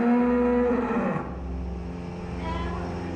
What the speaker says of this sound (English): The cows line up here to get milked when this was the main parlor.